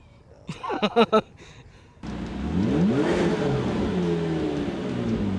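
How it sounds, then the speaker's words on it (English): A V12 supercar engine with turbos revving and accelerating, a loud sustained roar rising in pitch after a few seconds of nearby talking. "You can hear the turbos and everything"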